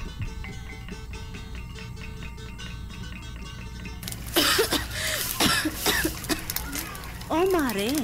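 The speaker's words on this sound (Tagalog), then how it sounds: "bakit inuubo na naman ang anak mo?" After a stretch of background music, a child coughs several times in harsh bursts, close by, with voices and music continuing underneath.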